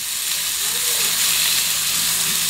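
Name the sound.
carrots and potatoes frying in a pan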